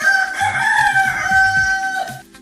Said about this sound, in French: retentit le chant du coq, le seul, de la basse-cour